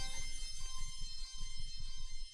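A bright, buzzy Serum synthesizer lead preset, Arteria, plays a short rising scale run over a pulsing low bass in an Asian rock style, loud and rich in harmonics, with no speech.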